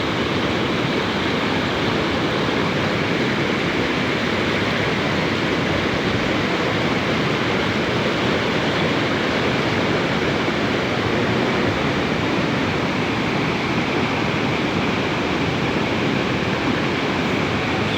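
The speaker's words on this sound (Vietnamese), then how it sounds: "suối này suối nậm pô nhá," The Nậm Pô stream rushes loudly and steadily, a dense unbroken roar of water close by that runs the whole length without a break and with no voices.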